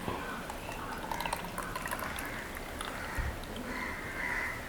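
Lukewarm water being mixed with a pinch of common salt in a jala neti pot, with a continuous liquid swishing and trickling and faint clinks near the end.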